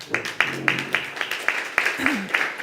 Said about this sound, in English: A round of applause to Evelyn, please.